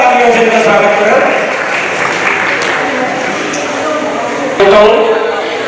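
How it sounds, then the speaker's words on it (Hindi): Applause and crowd noise fill the space as a guest is welcomed on stage at a Jain community event in Firozabad, a steady loud clapping wash with a voice over it and a brief louder burst near the end. "कृपया जोरदार तालियों से इनका स्वागत करें"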